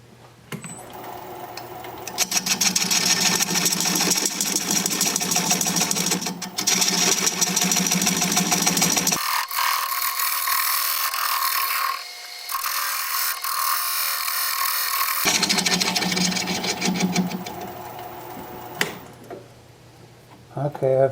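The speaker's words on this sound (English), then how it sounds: "Now I'm going to try my recess tool to put a dovetail on the outside edge of this." Wood lathe turning a hazelnut bowl as a recess tool cuts a dovetail on the outside edge, a loud steady whir with scraping cut noise, dropping out midway for a few seconds before resuming, with brief talk.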